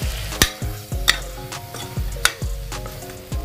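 A spoon scrapes and clanks repeatedly against a pressure cooker as spices are stirred into mutton curry with raw mango, sharp metallic taps in an irregular rhythm over a soft sizzle.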